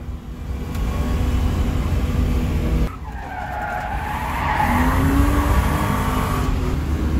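A car drifts at a drift day, with sustained tire squeal and a revving engine, loud and close, with no talking.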